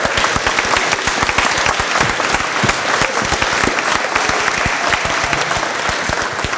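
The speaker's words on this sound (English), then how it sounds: "So can we give them a huge round of applause for our" Audience at a sixth-grade school band concert bursts into dense, sustained applause, many hands clapping loudly and evenly throughout with no speech heard over it.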